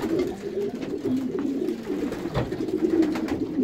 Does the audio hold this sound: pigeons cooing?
yes